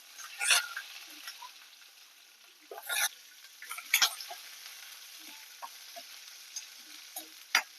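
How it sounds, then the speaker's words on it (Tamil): Onion and green chillies fry in a pan, soft sizzling punctuated by several sharp crackles and spatters as they are stirred, quiet and close. "இப்போ வந்து வெங்காயம் பச்சை மிளகாய் 2 ஒன்றா போட்டு"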